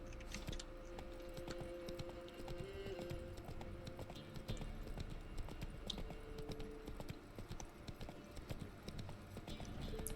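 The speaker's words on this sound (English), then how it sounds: "You okay, horse? Of course you are. You are a good horse." Horse hooves clip-clop along a road in The Witcher 3 video game, a quiet, steady rhythmic trot alongside low game ambience and faint tonal music.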